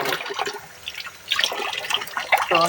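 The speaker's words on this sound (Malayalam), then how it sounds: "കുറച്ച് വെള്ളവും കൂടെ ഒഴിച്ച് അടച്ച് കൊണ്ട് ഫ്രിഡ്ജിലോട്ട് വെക്കുക" Water is poured into a container of fish before it goes into the fridge, giving close splashy trickling in uneven bursts that ends with a brief clink.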